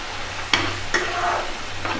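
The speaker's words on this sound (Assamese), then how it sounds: "দেখিছেনে কেনেকৈ তেল বিৰিঙি আহিছে এতিয়া দি দিছোঁ আদা নহৰু" Ginger and garlic dropped into hot oil in a pan for an Assamese dish, giving a steady sizzle with a couple of sharp bursts as the pieces hit the oil and are stirred.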